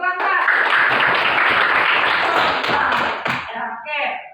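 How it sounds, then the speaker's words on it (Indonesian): A classroom of students claps together for a classmate, a dense, loud burst of applause with a few voices mixed in that tapers off near the end. "Tepuk tangan dulu untuk Rasa."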